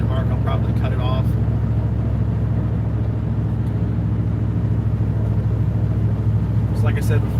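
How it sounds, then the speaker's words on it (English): Steady interior road noise from a car cruising on a highway somewhere near Knoxville, a loud, constant low rumble throughout with brief bits of talking near the start and end. "We're just driving right now."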